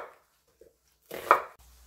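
A couple of quiet knife taps on a cutting board while slicing an onion, then one sharper chop, with silence between.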